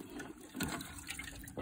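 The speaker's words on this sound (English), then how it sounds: "Water's running." Water runs from a tap on a farm with cattle paddocks, a steady close splashing flow with brief louder gushes through the short stretch.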